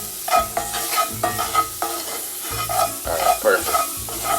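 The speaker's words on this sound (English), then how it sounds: "So we're gonna continue to keep stirring this." Curry shrimp being stirred in a pan over medium-low heat, a spoon scraping and clacking in uneven strokes against a soft frying sizzle, with a brief voice near the end.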